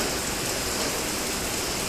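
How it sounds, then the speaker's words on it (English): Heavy rain pouring down outdoors near a chicken yard, a continuous, loud, dense roar of falling water with no gaps. "Rain's coming on."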